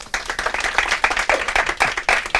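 A studio audience applauds to welcome a guest on a French satirical news show. The clapping is close and lively, with uneven bursts of hands and a few cheers or voices mixed into the brief ovation.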